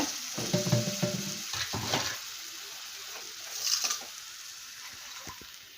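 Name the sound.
okra and ground paste stirred in sizzling pan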